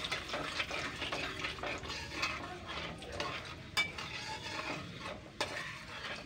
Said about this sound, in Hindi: अब दोस्तों इसमें जाएगा थोड़ी सी कलौंजी यानी कालू जीरा, सूखा लंका यानी लाल मिर्च